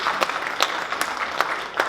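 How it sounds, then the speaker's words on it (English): Light, rhythmic clapping from an audience at a Hindu and Jain temple cultural program, thanking contributors; sparse individual claps land roughly every half second over a soft background of scattered hand noise. "But a big round of applause to all of them for contributing towards this."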